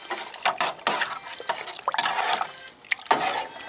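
Soup broth being stirred in a pot, giving repeated wet swishing and liquid sloshing strokes with faint clinks, close and fairly loud, with no talk.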